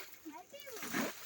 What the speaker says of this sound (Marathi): पाणी मार.